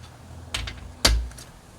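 Calibre Deep V cutter snipping through a cigar, producing two short, quiet, crisp clicks about half a second apart, alone in a quiet room.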